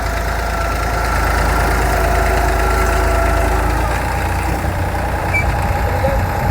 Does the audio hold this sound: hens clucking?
no